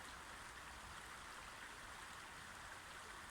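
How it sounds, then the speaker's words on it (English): A river in a winter woodland flows steadily, a faint, even rushing and burbling of water with no other sounds. "The sound of the river just sings and burbles."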